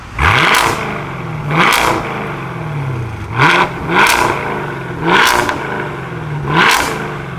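A loud, raw 2020 Camaro SS engine with the muffler deleted revs hard six times in a row, each blip rising sharply and dropping back to a rough, rumbling idle between.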